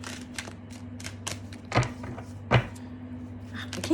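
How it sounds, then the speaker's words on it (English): Tarot cards are shuffled by hand, a run of quick riffling clicks and soft slaps with two sharper thumps, heard close over a low steady hum. "I wanna try shuffling again"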